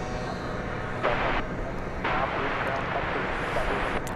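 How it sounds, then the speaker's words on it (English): A heavy jet airliner on approach to land at Dallas Fort Worth Airport gives a steady, loud, broad roar that holds for the whole stretch, with slight swells in intensity. "And there is another heavy jet coming in."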